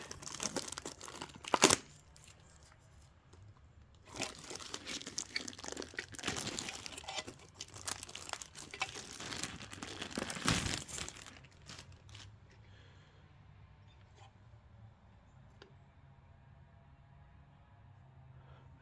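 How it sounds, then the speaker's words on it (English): Plastic packaging torn and crinkled off a new budget gadget, bursts of close crackling and ripping with pauses between, fading to sparse faint rustles at the end. "Get it out of plastic."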